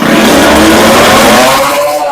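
A 2001 Honda CR125 two-stroke dirt bike engine, choked, pops into life and revs at a very high idle, loud and close, easing slightly toward the end.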